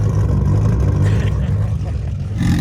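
An Audi Quattro drag car with a front-mounted 5-cylinder engine, big turbo and E85 fuel revs loudly and close on a ski-slope drag strip, a dense, sustained engine roar with a slight dip and a rising surge near the end.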